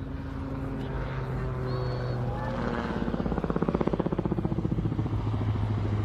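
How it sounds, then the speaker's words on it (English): Calidus autogyro with a Rotex engine at an air show, its engine droning steadily before a rhythmic, pulsing rotor-blade flap swells up and carries on to the end, fairly loud and with no talking. "Oh, I love that sound, that flapping of the rotor blades."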